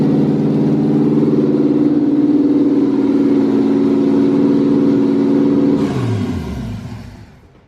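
A Jeep CJ7 engine runs with a steady, loud mid-pitched drone, then is switched off with the key and winds down to silence near the end.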